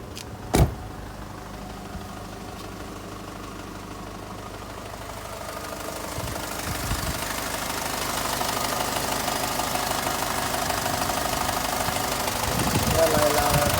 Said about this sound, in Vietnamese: xe máy dầu